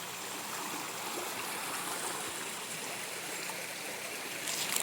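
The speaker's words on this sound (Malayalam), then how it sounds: "ഇവിടെയൊക്കെ നല്ല ഒഴുക്കാണ് കേട്ടോ" Water rushes steadily through an old canal tunnel, a dense, continuous roar of flowing water that stays loud and even throughout, with no voices.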